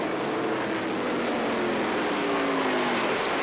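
NASCAR Busch East Series stock cars race at Music City, with a steady, loud engine roar from the pack that holds without a break and carries a slowly rising pitch.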